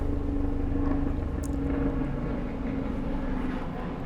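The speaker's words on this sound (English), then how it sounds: "I don't know if you could hear that, but it's helicopter city over my head." Helicopters flying overhead, a continuous loud rotor and engine drone filling the whole stretch with a steady low hum and no talk over it.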